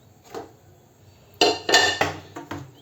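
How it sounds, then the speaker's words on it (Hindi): A metal kadhai (wok) is picked up and set down on a kitchen surface in a home kitchen before milk is added for coconut ladoo, giving a few sharp, close metallic clanks and knocks in quick succession with no talking. "एक कढ़ाई लेती हूँ"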